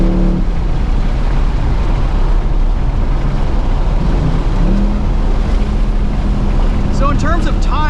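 Ford Mustang Dark Horse with Tremec manual gearbox driven hard on a track, a loud, steady engine roar mixed with heavy wind and road noise, with a voice speaking briefly near the end.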